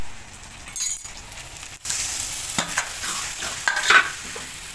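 Gram flour and spinach mixture poured into a hot wok and stirred for palak curry, with a scraping stir, glassy clinks and a soft sizzle rising after a short pause, close and fairly loud, no talking.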